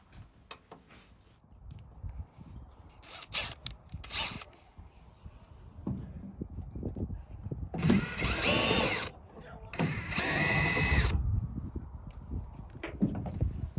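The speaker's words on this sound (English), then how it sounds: "unscrew two screws that hold in the light fixture" Screws holding the tail light fixture on a Dodge Ram are worked loose by hand. Soft clicks and ratcheting ticks come close by, with two longer, louder bursts of driver noise in the middle.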